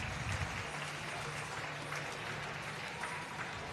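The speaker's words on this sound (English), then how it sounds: "And you can hear the fans here clapping and cheering on their teams here" Fans clapping and cheering in an arena at a National Ringette League game, a steady wash of distant crowd applause heard faintly throughout.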